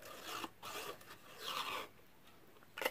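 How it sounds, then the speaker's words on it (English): A handheld craft punch cuts a shape from scrap paper, making a few short crunching, rasping presses close by in a quiet room. "So just punch that out"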